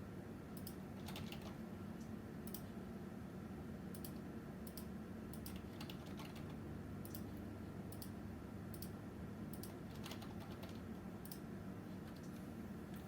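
Someone types a password on a computer keyboard, giving scattered quick key clicks in small bursts over a steady low background hum, with no talking.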